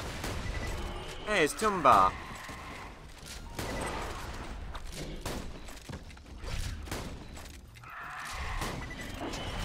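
Rapid, continuous gunfire from a held trigger in the Borderlands 2 video game, dense bursts running under a voice, with a louder flurry early on.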